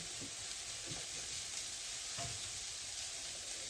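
Onion frying in a pan for a Bolognese sauce, a steady low sizzle with a few soft stirring scrapes, heard close and alone at a gentle heat.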